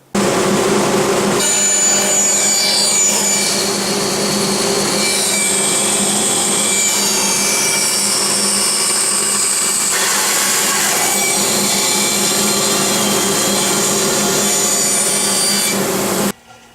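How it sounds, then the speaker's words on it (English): A bandsaw cuts steadily through a Texas ebony log, cutting it in half along a fence with a loud continuous whine and rasp that holds for about fifteen seconds before stopping abruptly. "use my fence on my bandsaw, and cut it in half"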